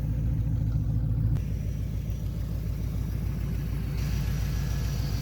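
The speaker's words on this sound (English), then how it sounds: "Something is not right with this motor. There's something wrong with the OptiSpark distributor." A Cadillac Fleetwood engine with a faulty OptiSpark distributor runs roughly, giving a steady, close, loud low rumble with an uneven pulsing beat throughout.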